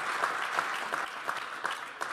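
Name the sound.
audience applause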